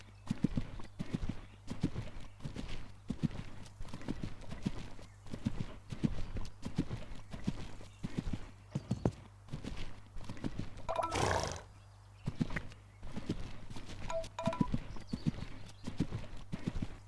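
Horses in a role-play horse game's foal training session, their hooves clip-clopping in a steady walking rhythm throughout, with a loud whinny near the middle and softer snorts, no talking over it.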